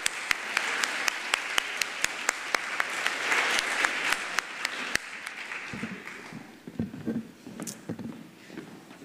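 Audience applause at a speech competition as contestants and instructors walk to the stage, steady broad clapping for about five seconds with a few sharp individual claps, then fading into scattered claps, shuffling and low murmur.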